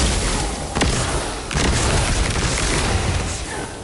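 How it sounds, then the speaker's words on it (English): A poison launcher detonates in the shooter game The First Descendant, loud booming bursts near the start and again around a second and a half, trailed by a rumbling, crackling wash. "But it's a poison launcher."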